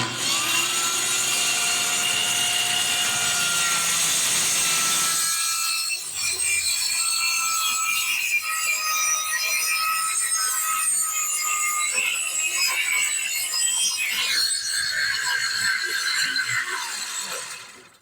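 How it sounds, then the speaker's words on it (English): A saw cuts through a sheet of plywood for a heavy-duty workbench, a loud continuous rasping whine that drops in pitch as the blade bites into the wood, then grinds on steadily before trailing off. "We're getting ready to cut the first piece of plywood for the"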